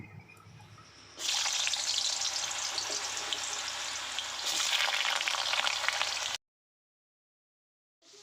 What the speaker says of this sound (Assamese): আলু ফ্ৰাই কৰা হৈ গ'ল।